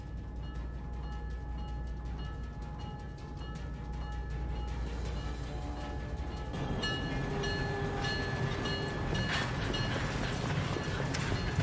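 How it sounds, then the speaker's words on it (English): Airport-bound train departing in the video game Syberia 4, a low rumbling engine hum with steady tones that grows louder and busier as the train gets moving, no voices over it. "The train for the airport is about to depart."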